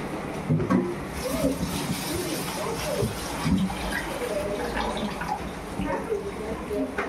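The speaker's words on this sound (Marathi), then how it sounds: "तोपर्यंत आपल्याला हे तांदूळ धुवून घ्यायचे आहे चांगले स्वच्छ" Rice grains are swished and rinsed by hand in a vessel of water for a khichdi, giving continuous sloshing and trickling with occasional clinks, close and fairly loud, while a voice speaks over it.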